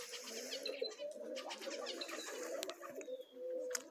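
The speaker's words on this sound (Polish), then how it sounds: "Ptaszki wypuszczone" Domestic pigeons cooing at a loft in June, a soft continuous murmur of low coos with occasional chirps and faint wingbeats, heard at moderate distance with no talk.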